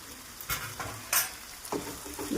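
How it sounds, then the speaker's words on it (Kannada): Bitter gourd fry with coriander leaves being stirred in a pan, soft sizzling under a few scraping strokes of a spoon against the metal, close and fairly quiet. "ಮಿಕ್ಸ್ ಮಾಡೋಣ."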